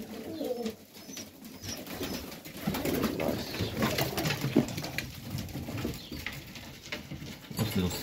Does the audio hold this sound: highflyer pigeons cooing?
yes